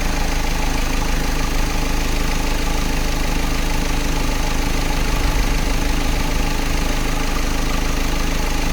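Car engine idling with its MAF sensor disconnected, a loud, close, steady mechanical drone with even vibration and a slight rough knock, running alone without talk.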